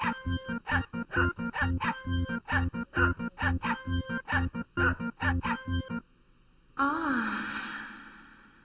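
Dog barking in the Silent Hill 2 dog ending of the video game, a steady run of about a dozen loud, evenly spaced barks, then a pause and a drawn-out whimpering cry.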